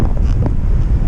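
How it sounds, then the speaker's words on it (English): Strong wind buffets the microphone on a windy coastal flight with a paraglider, a steady low roar of rumbling gusts filling the clip without any voices. "but boy, it's windy."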